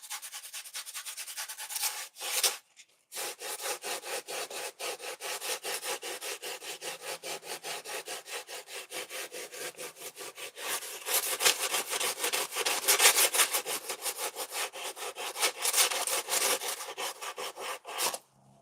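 A foam pumpkin sculpture is sanded by hand with 120-grit sandpaper, quick rhythmic back-and-forth rasping strokes up close, sustained with a short pause early on.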